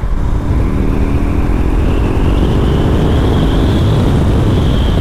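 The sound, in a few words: BMW R18 Bagger motorcycle engine accelerating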